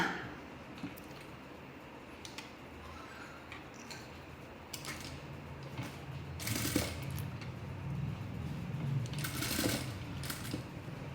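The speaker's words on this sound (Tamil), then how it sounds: "அப்படியே இந்த இடத்துலேருந்து ஒரு தையல் போட்டுக்கலாம் நம்ம" A sewing machine stitches a puff sleeve in a low, steady run, faint and close, with a few louder bursts of stitching near the end and no voices.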